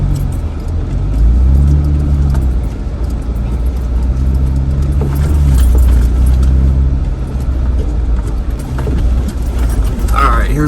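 Jeep JK fitted with Metalcloak Durospring bump stops, driving on off-road trails with a loud, steady engine drone and cabin rumble throughout. Someone talks over the sound.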